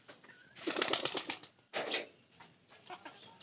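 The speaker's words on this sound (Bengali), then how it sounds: "এই কবুতরটার কথা বলতেছি।" A young, plump pigeon gives soft coos and rustling wing flutters in two short bursts, close but faint, with quieter movement sounds between them.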